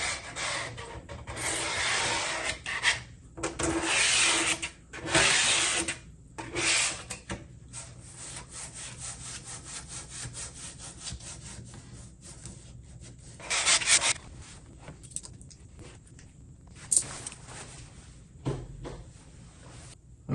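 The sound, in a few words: squeegee smoothing blackout window film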